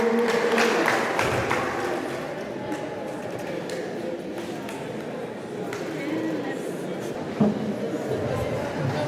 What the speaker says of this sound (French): Merci beaucoup, on peut les applaudir fort